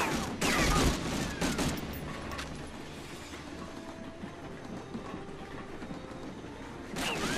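Gunfire in Medal of Honor: Frontline, with a burst of rapid shots at the start, then a quieter stretch of distant rattling fire and battlefield rumble, and another burst at the very end.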